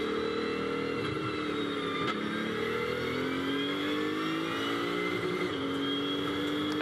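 A GT2 race car at Spa in a European series race accelerating away, its engine note climbing steadily through the gears with smooth rising pitch sweeps and brief shift dips, loud and continuous from an onboard perspective.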